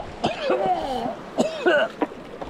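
A person coughs and clears their throat after a sand fly gets caught in it outdoors by a New Zealand brown trout river, two harsh bursts with raspy, voiced hacking in between, close and fairly loud.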